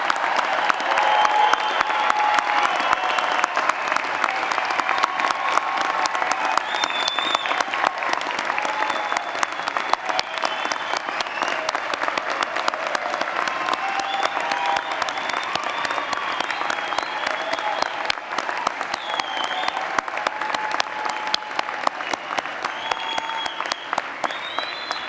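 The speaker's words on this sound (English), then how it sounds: "Let's give our graduates, as they stand, one more round of applause" A commencement audience at the School of Mines gives its standing graduates a long, sustained round of applause, dense even clapping at a steady level throughout with faint cheering mixed in.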